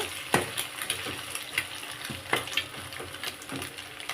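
Egg fry mixture being stirred in a pan, with a steady low sizzle under repeated soft scraping strokes of a spoon against the pan, close and moderately quiet.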